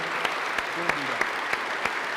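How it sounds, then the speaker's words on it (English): Clapping from an audience at a men's gathering, a steady wash of applause with a few sharper individual claps standing out, continuous through the moment while a voice briefly speaks over it. "He gets mad when I clap for him"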